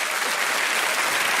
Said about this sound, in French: applaudissements pour Laurent Baffy